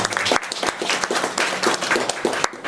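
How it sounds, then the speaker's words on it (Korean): An audience at a hanok concert claps together in a brisk, fairly loud round, with crisp separate hand claps over a bright wash of applause that holds steady. "박수 한번 부탁드립니다"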